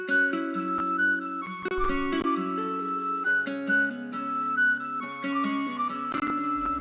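A simple melodic sample built in FL Studio, with plucked guitar and a breathy flute line played together, clean and upfront in a steady loop without any voices.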